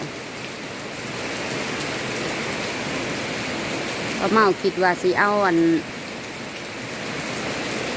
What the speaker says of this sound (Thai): ฝนตก ลงมาแล้ว